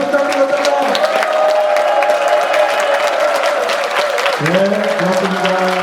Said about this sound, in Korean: 이 장소가 떠나갈 정도로 커다란 박수 한 장을 부탁드립니다